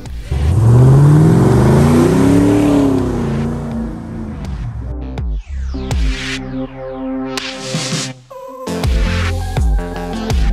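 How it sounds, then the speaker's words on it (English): A GM 565-horsepower LS3 V8 in a custom Land Rover Defender 110 revs hard, its pitch sweeping up and down through several loud throttle blips, then settling into a rough, burbling idle between bursts. "Project Rod is powered by a GM 565 horsepower LS3 Plus engine."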